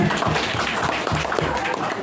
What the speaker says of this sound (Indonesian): Tepuk tangan dong buat Nabi Muhammad